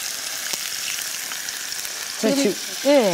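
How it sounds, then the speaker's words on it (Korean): Tofu sizzles steadily in a hot pan, a bright hissing fry with a faint clack as the pieces are turned, while a voice briefly speaks near the end. "옆에 이제 두부가 어느 정도 구워졌으니까 뒤집어 보도록 하죠"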